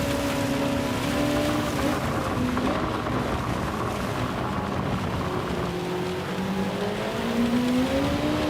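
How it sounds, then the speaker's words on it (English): Rain hiss blends with the drone of race car engines during a Gran Turismo 7 race, the engine pitch sliding up and down as cars shift and pass, with steady background noise throughout. "What a time to get the rain."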